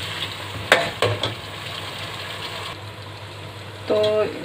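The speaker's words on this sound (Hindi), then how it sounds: "चिकन हमारा बहुत अच्छे तरीके से ये भून चुका है।" Chicken pieces frying in a pan for a pumpkin and chicken curry, a steady low sizzle with a few sharp stirring clatters early on and a brief scrape near the end, no voices.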